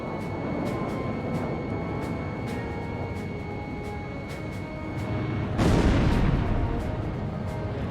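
Aircraft cannon fire in the flight combat game Ace Combat Zero: The Belkan War, a rapid run of evenly spaced shots over a steady engine drone, followed by a louder rushing burst.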